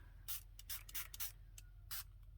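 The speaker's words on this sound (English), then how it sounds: "then I'm going to try and only spritz" Close, quiet spritzes from a spray bottle misting liquid onto a paper craft tag, about six short bursts in an uneven rhythm, with no talking between them.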